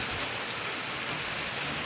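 Steady rain pouring down, a dense, even hiss of drops with no pauses and no voices.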